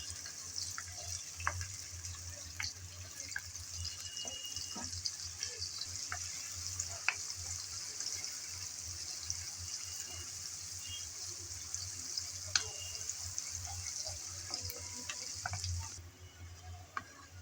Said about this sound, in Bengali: গরম তেলে দিয়ে দিলাম পেঁয়াজ কুচি। পেঁয়াজ কুচি দিয়ে নেড়ে চেড়ে ভেজে দিতে হবে।